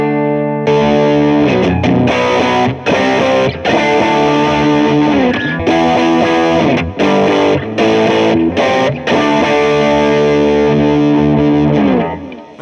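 Electric guitar driven through a Rat distortion pedal, playing loud, thick, sustained distorted chords with short choppy breaks between phrases, no talking.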